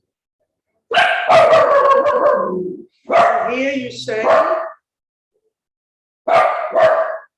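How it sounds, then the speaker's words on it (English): A dog barks in short bursts between stretches of a person talking; the barks are close and fairly loud, with quiet gaps between them. "I am detached from the dog that is barking,"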